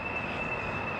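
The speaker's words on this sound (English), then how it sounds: "Just waiting for the tram" A tram rolls in on its rails along a roadside stop, with a steady loud rumble and a sustained high wheel squeal throughout the short stretch.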